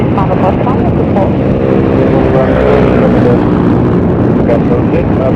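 Airplane engine roar during takeoff in strong wind and heavy rain, a dense, loud, steady wash of rumbling noise and rain hiss throughout, with faint radio-like voices mixed in.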